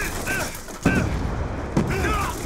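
Gunfire in a Call of Duty Black Ops 2 multiplayer match: two sharp bursts stand out over a continuous layer of game noise, with faint voices underneath.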